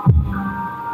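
Subwoofer bass playing through an ODY-PRO M520 power amplifier: a deep low thump followed by a steady droning low hum with a faint higher tone, close and fairly loud, with no talking.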